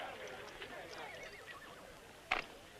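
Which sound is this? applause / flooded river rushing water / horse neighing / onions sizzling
horse neighing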